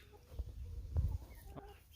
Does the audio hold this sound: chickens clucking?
yes